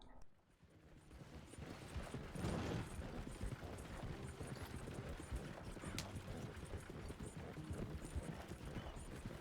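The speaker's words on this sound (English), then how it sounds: "agora o cavalo pode andar mais rápido" Horse hooves clip-clop steadily through Red Dead Redemption 2, a continuous even trotting rhythm under a dense bed of ambient game sound.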